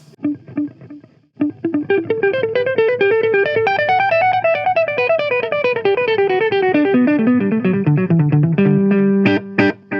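A guitar runs through an effects pedal on a Gokko MX300 analog pedalboard with the effect sped up, giving a hypnotic, warbling, modulated tone as a melodic line rises and falls, loud and close, with no talking.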